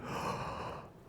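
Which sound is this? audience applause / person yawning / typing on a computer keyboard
person yawning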